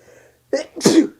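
A single sneeze: a brief intake of breath, then a sharp, loud burst close to the microphone, heard on its own.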